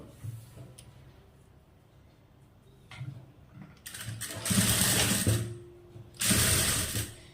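A sewing machine stitches a blouse in two loud bursts of fast running, with quieter handling sounds and pauses between them.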